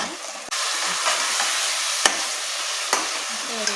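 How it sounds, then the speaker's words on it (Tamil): Egg masala frying in a pan, a steady close sizzle with a few sharp clicks of a utensil against the pan, no voices. "முட்டை வறுவலுக்கு முட்டை போட்டு நல்லா ஃப்ரை பண்ணுங்கள்."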